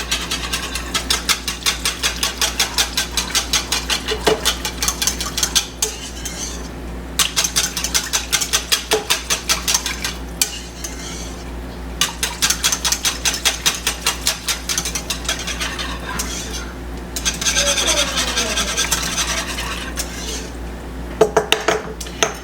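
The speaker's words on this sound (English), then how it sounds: "we're going to whisk all this together" Whisking ingredients together in a pot on the stove as holiday dishes are prepared: a fast, steady metallic scraping and clinking of the whisk against the pot, nearly continuous with brief pauses, close and fairly loud, with no talking.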